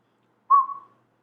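A single accidental whistle, short and fairly loud, rises briefly and trails off within about half a second, then silence, heard during a quantum mechanics lecture.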